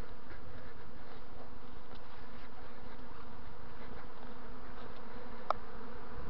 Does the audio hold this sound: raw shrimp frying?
no